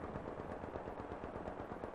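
Turret gunfire in the video game The Division: a rapid, continuous stream of automatic shots hammering throughout, fairly muffled and steady, with no talk.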